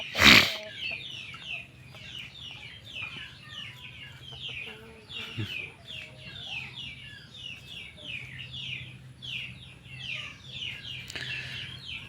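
Chickens cluck repeatedly in short, chattering bursts, opening with a loud squawk, then softer clucks continuing at close range.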